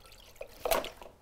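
Two cups of milk poured into a bowl for a tres leches cake soak, a short, soft liquid splash and trickle lasting about a second.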